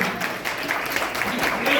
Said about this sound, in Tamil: இதுக்காக கைத்தட்டலாம்